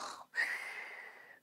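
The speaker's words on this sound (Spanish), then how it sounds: "roncando mientras duerme." Breathy snoring from a sleeping cartoon character, a single drawn-out wheezing inhale that starts with a short snort, soft and close, with no talking over it.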